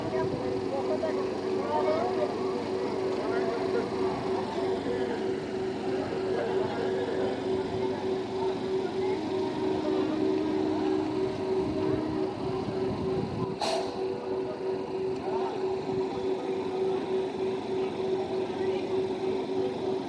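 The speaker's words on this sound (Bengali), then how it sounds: "মোটর কোচের একদম সামনে থাকার জন্য অ্যাক্সিলারেশন সাউন্ডটা কিন্তু অসম্ভব সুন্দর" An EMU local train motor coach on South Eastern Railway pulls away, its traction motor giving a steady whine and a constant broad rumble for the whole stretch, heard close to the front of the coach. A brief sharp burst cuts through near the end.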